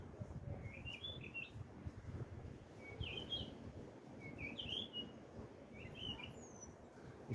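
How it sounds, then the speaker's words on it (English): Bird chirps in outdoor nature, four short high bright bursts spaced a second or so apart, moderately close, over a steady low rumble of wind or ambient background. "Listen to that bird."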